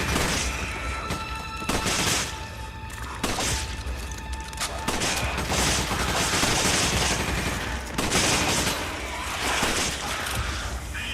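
Gunfire in Resident Evil 5 comes as a series of sharp, loud bursts at irregular intervals over dense game background sound, without any talk.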